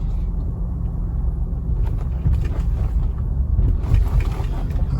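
An Alfa Romeo Stelvio Quadrifoglio rolls slowly over a speed bump, a steady low rumble of engine and road noise inside the cabin with a few soft thumps and some wind buffeting.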